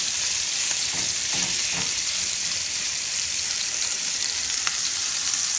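Steak pressed down in a hot pan gives a loud, even, continuous sizzle that holds steady throughout, with a few faint taps near the start.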